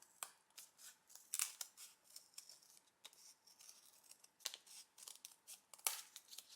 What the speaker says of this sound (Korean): 이렇게 접은 상태에서 가위로 모양을 둥글게 위를 잘라내기를 할 거예요